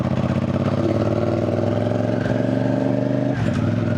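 A CF Moto 450 CL-C motorcycle with an aftermarket exhaust idles steadily with a throaty, pulsing exhaust rumble, close and moderately loud, with a brief rev near the end.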